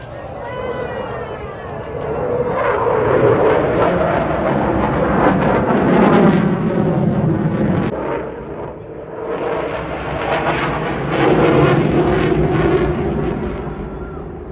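Jet fighter with twin Rolls-Royce EJ200 engines in reheat at a seaside air show, a loud, continuous roar that swells and fades as it passes, with a commentator talking over it.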